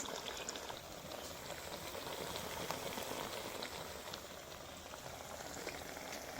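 Beguni, eggplant fritters, fry in oil on a gas stove, producing a dense, steady bubbling hiss that sounds almost like rain, unbroken and moderately quiet.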